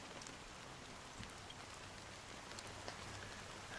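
Steady fine drizzle of rain in the video game Honkai Star Rail, a soft, continuous hiss of falling drops with no voices, quiet and even throughout.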